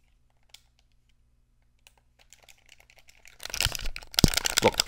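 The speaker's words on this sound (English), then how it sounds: "I'm clicking almost every single button on this controller" Rapid clicks and clacks of buttons being pressed on a game controller during Halo Infinite play, faint and sparse at first, then a dense, louder burst of clattering presses.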